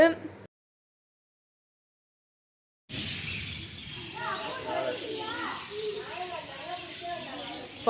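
After a brief cut to silence, lovebirds chirp in a busy, overlapping chatter of short tweets at a bird park in Thanjavur, moderately near, against a light background hum.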